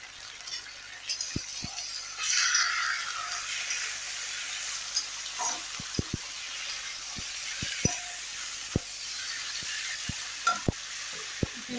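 Pigeon meat with ginger fries in a pan, giving a steady soft sizzle broken by sharp, irregular clinks and scrapes of a spoon stirring against the metal.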